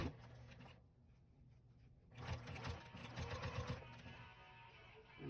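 Sewing machine stitching along the seam edge of a denim quilt-as-you-go quilt, a near whirring run after a short quieter pause, steady and fairly loud with no talking.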